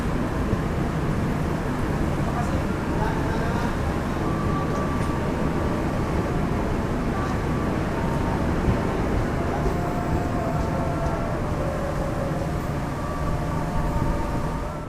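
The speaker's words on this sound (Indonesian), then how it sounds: "Kereta api Sri Tanjung sudah diberangkatkan dari stasiun Probolinggo" Sri Tanjung passenger train pulling out of Probolinggo station, a steady loud rumble of wheels and engine throughout with faint tonal squeals, no talk.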